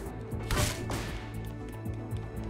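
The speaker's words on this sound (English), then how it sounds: "That is the sound of wood colliding with skull" In the video game A Hat in Time, a sharp whip-like thwack of wood striking a skull lands once, followed by a softer whoosh over a quiet background of game music.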